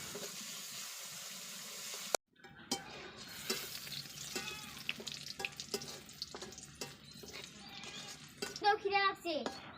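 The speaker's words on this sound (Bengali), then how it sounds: "চুলাটা ভালোভাবে জ্বালিয়ে কড়াই বসিয়ে পেঁয়াজ ভাজার জন্য দিয়ে দিলাম" Onions frying in a wok on a village stove: after a brief pause, a soft sizzle runs with stirring clinks and scrapes, and a voice is heard in the background.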